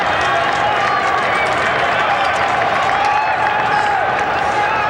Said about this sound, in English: Rather vocal crowd, a good contingent of Hofstra fans on hand.